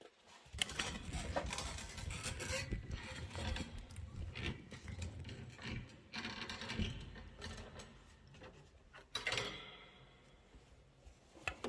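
Sewing machine stitching a handle onto a storybook pocket pillow, running in bursts of rapid mechanical chatter with short pauses between runs, moderately close and fairly quiet, with no voices.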